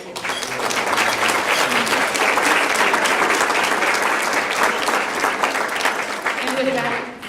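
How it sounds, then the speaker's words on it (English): Audience at a university research conference applauds steadily, a dense, loud wash of clapping from many hands that swells and holds, then tapers at the end, with some voices underneath. "I just want to give a round of applause to everyone who helped to assist with this."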